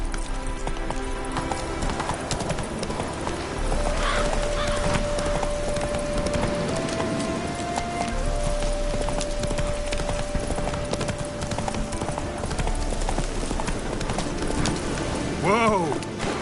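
Roach, a horse in The Witcher 3, gallops in a fast rhythmic clip-clop of hooves over game music, with a whinny near the end and someone speaking.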